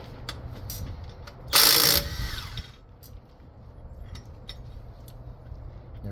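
Ratcheting socket wrench working the crankshaft bolt on a second-generation Toyota 4Runner with a 3VZE engine, one brief burst of clicking and clatter close up, followed by quieter shop background.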